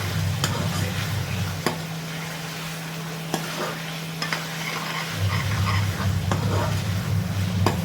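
Chicken fries with onions and spices for chicken korma, a close, steady sizzle under a constant low hum, punctuated by sharp ticking scrapes of a spoon against the pan every second or so; nobody talks.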